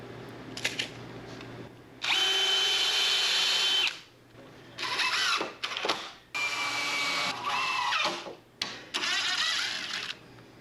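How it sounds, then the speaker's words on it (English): A power drill drives screws into wall board, with several whining bursts of a few seconds each, separated by short pauses and clicks, close and fairly loud, and no talking. "Again, just putting 2 screws in"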